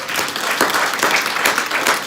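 A round of applause from an audience at a training session, dense clapping from many hands that stays loud and steady for a couple of seconds.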